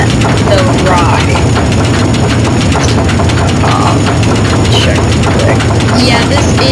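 A roller coaster ride in the video game RollerCoaster Tycoon 3 on its biggest hill produces a loud, continuous rattling rumble of cars on the track, steady throughout without a break.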